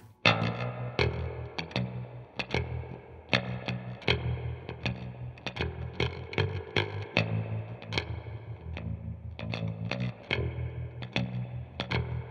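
Fender bass guitar played through a powerful amplifier fitted with a tweeter for a sharp, twangy attack, a run of plucked notes in a steady rhythm, close and moderately loud with distorted, effected tone and no talking.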